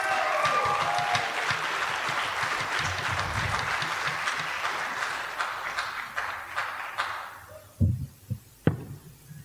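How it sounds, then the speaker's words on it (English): A circus cabaret crowd gives a warm round of applause for a juggler, dense and steady at first, then fading into a few scattered claps and low thumps as it dies away. "Let's have a warm round of applause for him."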